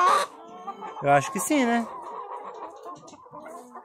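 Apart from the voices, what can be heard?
chickens clucking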